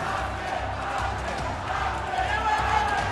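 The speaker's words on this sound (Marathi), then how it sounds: "जोरदार घोषणाबाजी या ठिकाणी सुरू आहे।" Councillors chant slogans loudly inside the Mumbai civic hall as the mayor and deputy mayor prepare to take office, a steady crowd roar of voices that holds throughout without pause.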